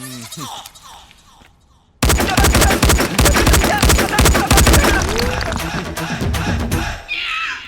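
A gun fires rapidly in a Telugu film comedy scene, a sudden loud burst of repeated shots lasting several seconds, with voices heard before the firing.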